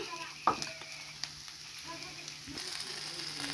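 Food frying and sizzling in a pan with garam masala, with a sharp clatter near the start and steady crackling throughout.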